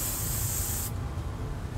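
A spray can hisses steadily onto a CD, a close, continuous aerosol blast for about a second before cutting off, leaving a low background rumble.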